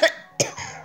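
Two sharp coughs from one person, close and fairly loud, the second followed by a brief raspy tail.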